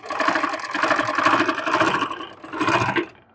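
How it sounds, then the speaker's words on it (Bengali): A sewing machine stitches a lungi in a rapid, continuous mechanical chatter, running in steady bursts close by before stopping abruptly at the end. "আমি লুঙ্গিটি সেলাই করে নিচ্ছি"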